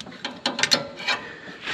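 A wrench ratchets on a linkage near the oil filter of a Hustler Raptor SD mower during a Hydro Gear oil and filter change, making a few quick, close clicking bursts of metal pawl clatter followed by a short scrape.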